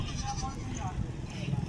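Goats bleat amid a busy goat market in Shahpur Kanjra, selling milking goats and kids. Faint bleats and the murmur of people talking sit over a steady crowd hubbub.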